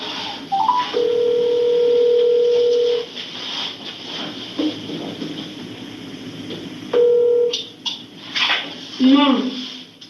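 Telephone dialing tones and ringback beeps play over a speakerphone, with short beeping tones in two bursts among people talking and background noise.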